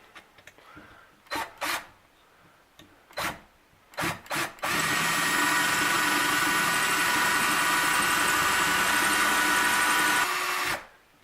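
A few short bursts of a drill biting into a brass .308 cartridge case, then a long steady whine of continuous drilling that stops abruptly.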